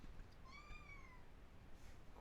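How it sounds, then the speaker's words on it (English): A small house cat meows once, a clear rising-then-falling call at moderate distance over a quiet room background, followed by a faint second sound. "you hear my little kitty"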